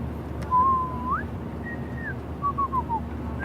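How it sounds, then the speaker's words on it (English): A character in the Life is Strange video game whistles a short, wavering tune in a few sliding phrases, alone and close over a quiet background hum. "Do you mind not whistling?"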